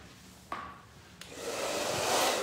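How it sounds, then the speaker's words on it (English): A hair blow dryer running without a nozzle during a haircut, a steady airy whoosh that builds louder after a couple of clicks, close to the listener. "I'm gonna use my blow dryer"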